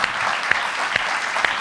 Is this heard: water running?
no